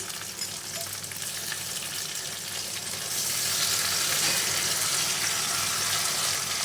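Ground chilli paste fries in a pan of browned onions for a mutton and potato curry. The steady sizzle swells louder and brighter partway through and continues without any speech.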